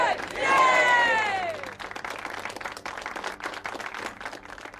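In the video game Broken Sword 3, a cheering whoop rises over a crowd's steady clapping and applause, which continues at moderate volume after the cheer fades.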